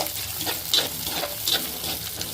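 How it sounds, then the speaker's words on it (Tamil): Shallots, curry leaves and green chillies sauté in a pan, a quiet steady sizzle with soft stirring scrapes and a couple of brief brighter pops, no talking. "சின்ன வெங்காயத்தை போடலாம் கருவேப்பிலை சின்ன வெங்காயம் பச்சை மிளகா இது எல்லாத்தையும் போட்டுடலாம் ஸோ நல்லா வதக்கி விடணும்"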